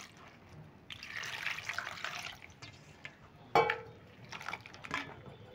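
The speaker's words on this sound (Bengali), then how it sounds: "এই আলুগুলো কিন্তু 3বার করে ধুয়ে নিতে হবে" Grated potatoes being washed in water, with splashing and trickling, a louder sloshing stretch early on and a sharp splash midway, quiet and close with no talk.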